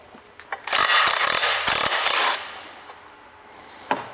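A wrench works a bolt out of the pin retainer on an excavator thumb, a close burst of rapid ratcheting clicks lasting over a second, then quieter metallic knocks and handling noise.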